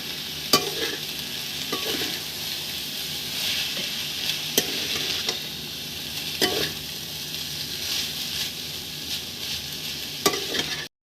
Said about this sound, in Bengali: পেঁয়াজটা হালকা লাল লাল ভাজা হয়ে যাওয়ার পর সিদ্ধ করে রাখা চাউমিনগুলো দিয়ে দিয়েছিলাম কড়াইতে